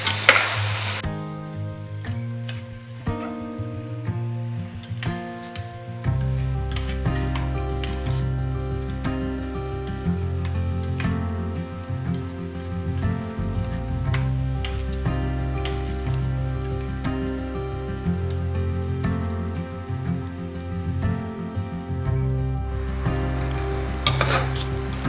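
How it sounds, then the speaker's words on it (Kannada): Rice and basmati rice being fried and stirred in ghee in a pan, a soft sizzle with occasional utensil scrapes, heard under continuous background music. "ಒಂದು 2 ನಿಮಿಷ ತುಪ್ಪದಲ್ಲೇ ಸ್ವಲ್ಪ ಹೀಗೆ ಹುರಿಬೇಕು."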